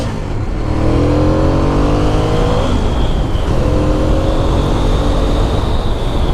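A 2007 Ducati Monster 695 motorcycle engine revving and accelerating, loud and close, with rising and falling engine tones over steady rumble and wind noise, no talking.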